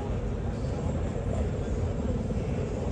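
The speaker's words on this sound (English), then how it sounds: "That's a helicopter that we can hear overhead." A steady low rumble of a helicopter passing overhead in the video game Arma 3, a continuous droning roar without breaks.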